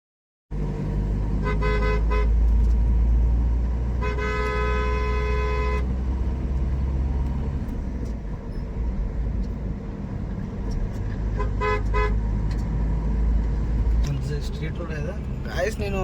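A car speeds along the winding Srisailam route, its engine rumbling steadily throughout while the horn honks in several distinct bursts, with people talking over the road noise.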